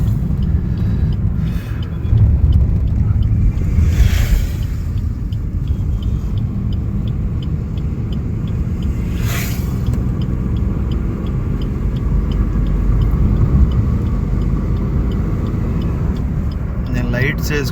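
A car driving on the Piduguralla–Sattenapalli road in heavy rain, with a loud, steady low engine and road rumble heard from inside the vehicle and a voice at times.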